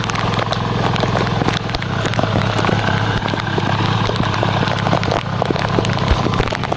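A tractor engine runs steadily and loudly in a waterlogged field during heavy rain, a continuous low rumble with constant rain-like noise over it and no pauses.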